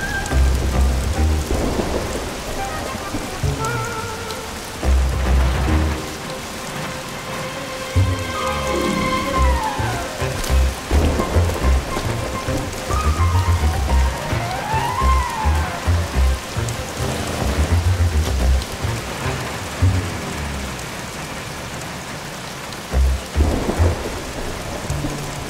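Rain and thunder in the Bee Movie video game: steady heavy rainfall on surfaces with repeated low thunder rumbles, alongside faint rising and falling game tones, no speech.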